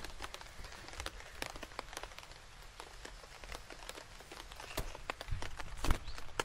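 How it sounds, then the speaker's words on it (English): Rain patters steadily on a tent from just inside a campsite in a field, with dense irregular drops and a few louder close taps. "The only place in Europe that's raining at the moment is just above our tent."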